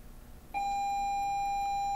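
A school bell sounds in a classroom, a sudden sustained electronic tone that starts abruptly and holds steady and loud to the end, with no voices.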